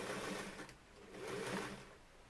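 Sewing machine stitching a seam on a fabric face mask, a continuous fast close whirring run that swells slightly, with no talk.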